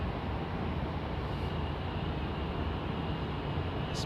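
Jet airliner departing London Heathrow Airport, a steady broadband engine roar that stays fairly constant over a few seconds, heard from a distance with no voices.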